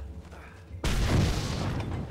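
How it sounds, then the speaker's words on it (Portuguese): A single loud boom bursts at a gate in the Mad Max video game, then a rumbling roar that lingers to the end. "Resiste à explosão"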